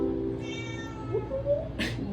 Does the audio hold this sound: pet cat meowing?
yes